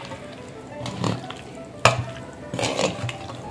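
Homemade cauliflower pickle being stirred and mixed in a bowl, with a few wet, scraping strokes of a spoon close by, quiet between bursts and no talking.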